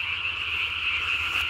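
A tree frog calls at night in a loud, steady, high-pitched trill that runs unbroken and close, with no other sounds around it.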